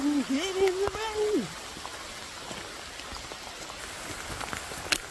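Rain falls outdoors on an estate, a soft steady patter with scattered drops close by, while a man sings briefly at the start before the rain carries on alone.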